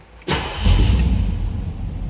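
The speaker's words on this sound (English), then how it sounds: "Let's go ahead and start this up so you can hear it run." A 1972 Chevrolet Chevelle Malibu Sport Coupe with a 350 V8 cranks briefly and fires up, settling into a loud, rumbling idle close by.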